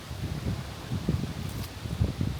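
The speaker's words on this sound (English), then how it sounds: "Windy." Gusty wind on a chilly night in an urban park, buffeting the microphone with low rumbling bursts and a faint rustle in the background.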